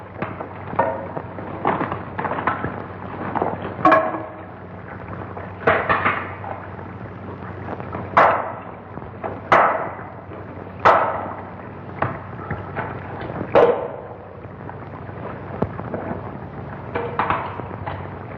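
Two hammers strike a rock wall in a 1951 sci-fi film scene, a series of irregular sharp cracking impacts, some louder and closer together, with rubble rattling between blows.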